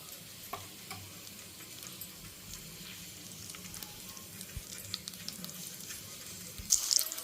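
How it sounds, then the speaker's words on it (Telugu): Bitter gourd stuffing with garlic and chilli powder frying in oil, a soft, steady low sizzle with occasional stirring taps and a brief louder clatter near the end. "చూడండి ఇవైతే వేగుతున్నాయి అన్నమాట ఆయిల్లో"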